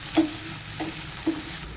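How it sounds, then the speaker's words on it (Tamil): Okra (vendakkai), already sautéed once, being stir-fried again in a pan with salt, turmeric and chili powder: a continuous soft sizzle, broken by a few distinct scraping strokes of the spatula, close up and with no talking. "ஏற்கனவே வதக்கி எடுத்துருந்த வெண்டைக்காய் திரும்ப வதக்கிட்டு இருக்கோம்."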